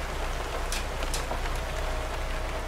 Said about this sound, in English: It's pretty loud in the rain.